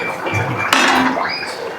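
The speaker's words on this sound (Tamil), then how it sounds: "சிக்கன் நல்லா வெந்து வேகிற வரைக்கும் மூடி வச்சுக்கலாம்." A metal lid set down onto a pot of simmering chicken curry gravy, giving one sharp clink that rings briefly over a low steady background.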